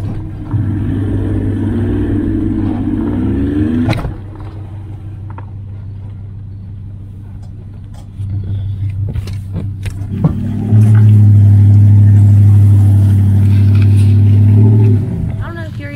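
A truck engine idles and then revs loudly while being backed down, its low drone swelling and dropping in stages, with brief voices talking over it.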